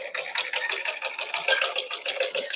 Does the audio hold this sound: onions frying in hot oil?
no